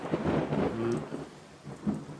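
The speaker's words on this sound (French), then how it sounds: "J'ai l'impression qu'il se prépare un bel orage." Rain falls steadily under low, rumbling thunder as a storm builds outdoors, the roll swelling and fading twice across the brief stretch with no voices.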